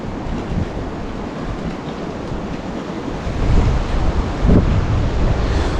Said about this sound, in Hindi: यहाँ नदी का पानी घूम रहा है और देखिए कैसे बॉन्डर बन रहा है नीचे